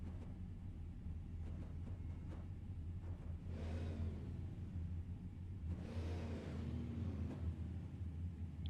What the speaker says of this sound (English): Getting those engines warm and ready as they're about to take the lap behind.